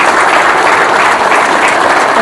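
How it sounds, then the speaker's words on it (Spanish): Steady, dense applause from a large audience, loud and continuous throughout with no breaks. "lo recibimos con un caluroso aplauso"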